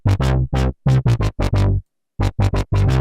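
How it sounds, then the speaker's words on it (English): Synth bass preset "Ooh Wee" from the Persistence bank for Sylenth1, playing short punchy bass notes in a syncopated rhythm with a brief gap midway, each note bright and sharply decaying, close and alone. "So this first one is called Ooh Wee,"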